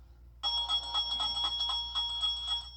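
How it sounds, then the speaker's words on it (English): A Salvation Army handbell rings continuously in rapid, steady shakes at a store entrance, bright and close, over a low background hum. "the sound of a bell ringing as you walk into a store fills the air"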